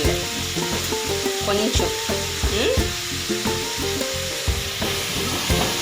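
Eggs frying with rock salt in a pan for egg curry, stirred with steady rhythmic scraping strokes over a continuous close sizzle; a voice briefly speaks.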